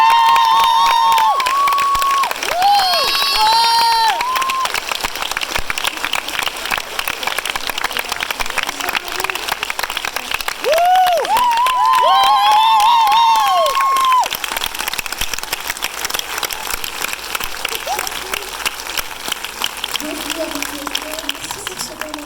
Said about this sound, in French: faire un tonnerre d'applaudissements pour Géraldine Nakache et Leïla Berti